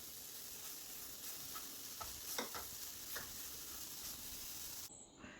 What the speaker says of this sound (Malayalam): അതൊന്ന് നല്ലതുപോലെ എല്ലായിടവും എത്തുന്ന വിധം ഒന്ന് ഇളക്കി യോജിപ്പിക്കുക.